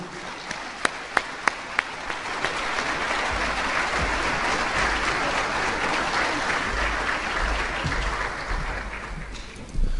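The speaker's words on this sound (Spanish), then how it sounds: "Le damos un aplauso en el nombre de Jesús." Church congregation applauding a preacher called to the front, steady dense clapping from a crowd filling the room, with a few sharp louder claps near the start and a brief voice at the very end.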